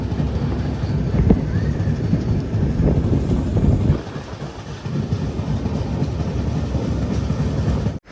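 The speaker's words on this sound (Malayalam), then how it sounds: "കേസിംഗ റെയിൽവേ സ്റ്റേഷനിലേക്ക് ഇതാ നമ്മുടെ ട്രെയിൻ എത്തിക്കൊണ്ടിരിക്കുകയാണ്." Samata Express rolling into Kesinga railway station in Odisha, a loud continuous rumble and rattle of carriages that eases after midway, close and steady with no talk, cutting off at the end.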